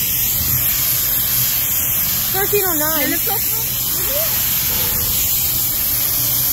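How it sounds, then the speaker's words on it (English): Steam locomotive 1309 hisses continuously with a loud, close, spraying roar that never lets up, while a voice speaks briefly over it partway through. "I got a close up of the steam locomotive."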